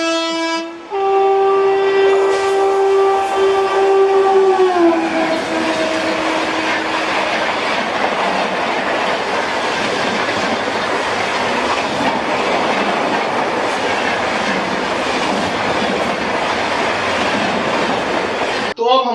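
The Lucknow–New Delhi Shatabdi Express races past at high speed at a small railway station, opening with a long loud horn blast that falls in pitch, then a sustained roaring rush of wheels and carriages that holds steady until the end.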